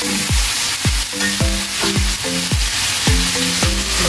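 Bitter melon slices hit hot oil in a pan of sautéed mung beans, a steady loud sizzle under repeated clinking scrapes of a spatula stirring in an even rhythm, close by, with no talking.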